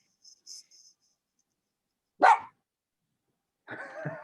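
A dog named Rocco gives a single sharp bark, then a rougher bark-like sound follows after a pause, with a few faint high clicks at the start.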